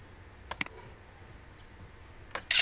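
A few sharp keyboard clicks from a shortcut pressed on a computer while working in MS Word, faint isolated taps in a quiet room, ending in a louder burst.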